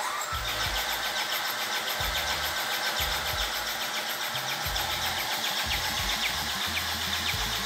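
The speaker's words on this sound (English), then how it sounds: "They push the starter until the oil come out from the oil pipe of the turbocharger." A Mercedes OM611/OM612/OM646 diesel engine cranks on its starter during assembly, a steady, loud mechanical whir with a rhythmic low pulsing throughout, with no talk.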